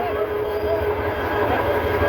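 The Titas Commuter train rolls into Bhairab Bazar junction with a loud, steady rumble of wheels and carriages and a faint squeal on top, heard close up.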